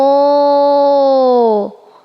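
A voice imitates a cow's moo with one long, steady, nasal tone that drops off at the end.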